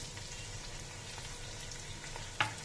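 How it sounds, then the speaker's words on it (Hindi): Garam masala frying in a pan, a quiet steady sizzle with faint stirring and one brief sharp clink near the end. "अब हम इसमें गरम मसाला डालेंगे जो हमने आपको बताया था और 1 मिनट इसको मिक्स करेंगे, भूनेंगे।"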